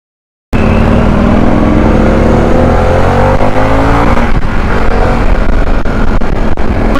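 A BMW R 1250 GS Low motorcycle accelerates hard with a loud, close engine roar that starts abruptly. The pitch climbs through a gear, dips at the shift and then rises again as the wind rushes past.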